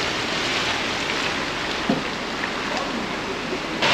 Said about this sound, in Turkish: Acayip bir yağmura yakalandım.